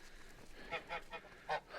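Geese on a small homestead farm in Canada honk in a short run of four loud, close calls spaced irregularly over a quiet background.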